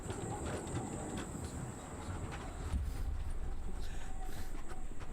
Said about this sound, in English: Why did I take this tram?